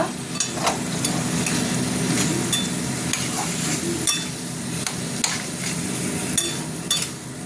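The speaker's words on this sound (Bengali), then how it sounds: "এবার মশলাটা কষা কষা হবে, হতে থাক" Spice masala sautéing in a kadai with tomato and salt, a steady close sizzle under repeated scraping strokes of a spatula against the pan, continuous and fairly loud with no talking.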